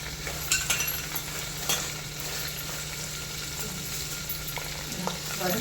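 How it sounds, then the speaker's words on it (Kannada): Ingredients sizzle steadily in a hot pan with dried red chillies, garlic, curry leaves, coriander, mustard seeds and cumin, a continuous soft frying hiss broken by a few light clinks of a stirring utensil. "ಈ ಥರ ಎಲ್ಲನೂ ಚೆನ್ನಾಗಿ ಫ್ರೈ ಮಾಡಬೇಕು"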